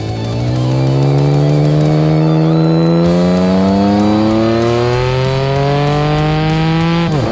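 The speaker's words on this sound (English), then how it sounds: "The 6 cylinders generated a mechanical, soft and harmonious note, which many compared to a musical instrument." Six-cylinder motorcycle engine revving loud and close, a smooth harmonious tone climbing steadily in pitch with no voices.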